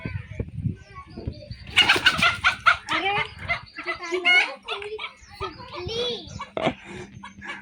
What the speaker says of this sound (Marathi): कोंबडीला पकडायला चालले मग आम्ही.